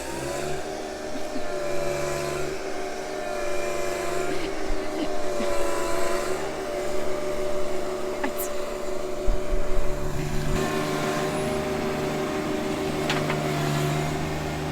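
A John Deere 1025R compact tractor runs while ripping out a fence and tearing up brush, its engine a steady mid-level drone with small rises in load and a few brief knocks and clatters.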